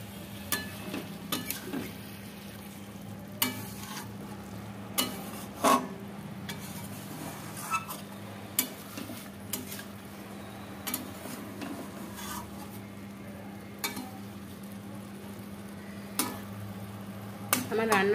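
Dry curry is stirred and turned over in a pan, a spoon scraping and knocking against the metal in irregular clacks over a low, steady sizzle.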